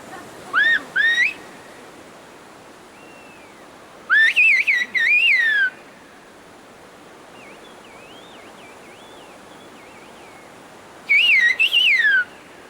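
Sharp, piercing whistles come in short gliding bursts separated by pauses, carrying like speech over the steady rush of water in the background.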